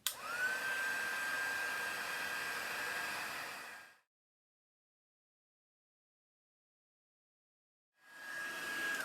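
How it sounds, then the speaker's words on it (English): An embossing heat gun blows on embossing powder with a close, steady airy roar and a thin whine, cutting off into silence for about four seconds before starting again. "You want to wiggle that gun back and forth so that the heat isn't directly in one place."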